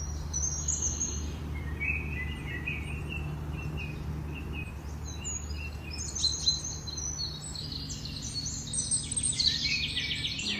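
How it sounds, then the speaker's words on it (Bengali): Birds chirp and call at daybreak, small bright twitters scattered across the scene, near and far, over a steady low hum of morning air, with no voices. "পাখির কিচিরমিচির শব্দ শুনতে"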